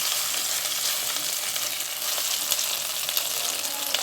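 Sliced okra frying in hot oil gives a steady, close, loud sizzle that holds evenly throughout, with no voices.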